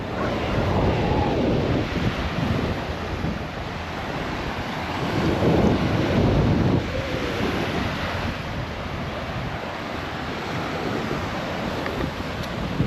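Steady wind and rolling surf on a North Sea beach at Nieuwpoort, Belgium, loud and continuous throughout, with breaking waves swelling and receding under constant wind rush and no voices.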